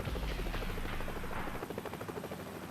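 Marine One, the US presidential helicopter, taking off with a loud steady rotor thump and turbine roar, close and continuous, with deep low-end rumble easing partway through.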